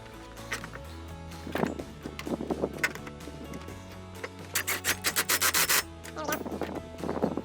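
Snow retention bar clamps being tightened on a standing seam metal roof, with a series of close rubbing, scraping metal clicks and a quick run of rhythmic ratcheting strokes midway, no talking.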